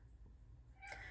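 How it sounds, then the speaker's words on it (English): A pet cat meows once near the end, a short tonal cry rising out of a quiet indoor room with low background hum. "She's wondering who I'm talking to. That's my cat, Miss Puss, Panther Pants."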